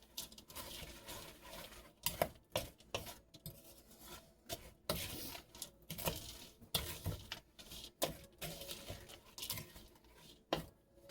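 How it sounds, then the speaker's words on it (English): Stovetop stuffing is stirred and scraped in a bowl, giving irregular rubbing, rasping strokes and soft patters that come in uneven bursts close up. "And then we just mix this up till it's well mixed and blended."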